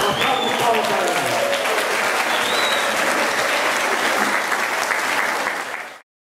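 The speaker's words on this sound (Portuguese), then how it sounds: "Uma salva de palmas para ela." Steady, loud audience applause at a spring dinner event, dense clapping from a large crowd lasting about six seconds before cutting off abruptly, with faint voices mixed in.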